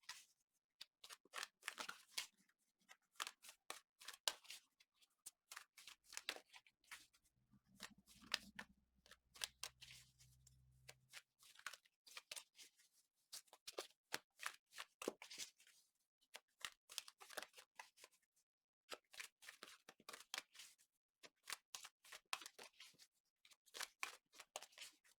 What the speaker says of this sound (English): Sometimes I wish that I drew cards instead of shuffled them